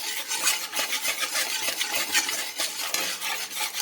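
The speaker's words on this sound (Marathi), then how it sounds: "मिक्स करून घ्यायचा हे सर्व" Turmeric and spice masala stirred in a pan, with a continuous rhythmic scraping of a spoon against the metal, close and steady with quick repeated strokes.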